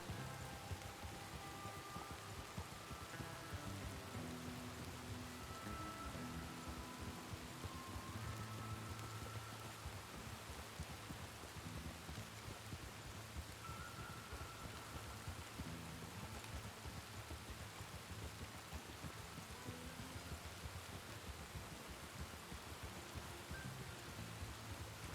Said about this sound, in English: And the thunder's always so goddamn loud.